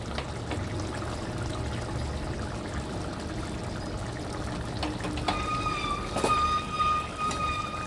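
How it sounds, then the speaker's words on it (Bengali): Raw mustard oil trickles over cooked fish in a pan, a soft steady pour under light kitchen clatter and a few bright metallic clinks near the end. "আর দিয়ে দেবো কাঁচা সর্ষের তেল"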